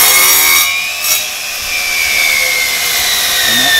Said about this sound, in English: Now I have this saw set with a stop that will cut it at 2 1/2 to 1/8 inches.